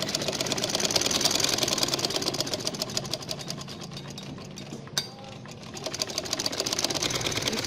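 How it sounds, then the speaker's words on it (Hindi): Sewing machine running steadily while stitching the bottom hem of salwar legs, a continuous fast mechanical whir with a brief pause and slight dip midway before resuming. "अब हम इसके पोंचे का सिलाई लगाएंगे जो सबसे नीचे वाला एज है।"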